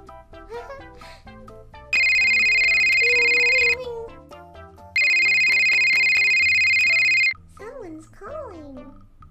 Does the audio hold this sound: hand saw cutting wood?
no